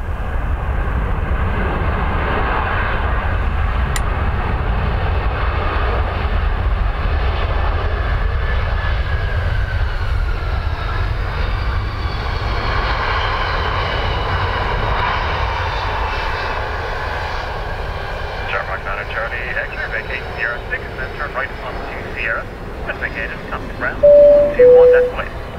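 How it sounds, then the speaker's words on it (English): Airliner landing at Dublin Airport, a loud, sustained jet engine roar close by that slowly shifts in pitch and tapers off toward the end, with some faint radio chatter in the background. "Heavy noise if they go for Sierra 5."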